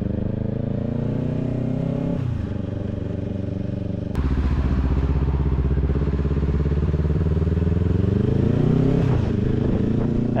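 A motorcycle ridden through city streets at night hums close and loud, its engine pitch climbing and dropping as it revs and accelerates, with clattering road noise and no talking.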